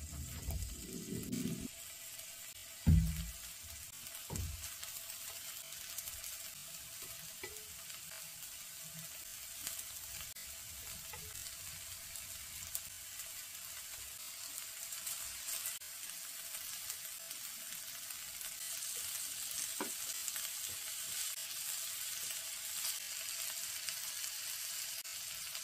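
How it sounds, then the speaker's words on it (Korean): Bellflower root (doraji) sizzles on a heated iron pan over moderate heat, giving a faint, steady frying hiss broken by a few clunks and knocks near the start. "달궈진 팬에 도라지를 얹어줍니다."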